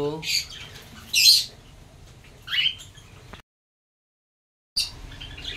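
Yellow-sided conures give a few sharp, shrill calls nearby, separated by pauses and a stretch of complete silence, with a voice briefly audible underneath.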